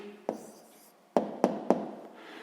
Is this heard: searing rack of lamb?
no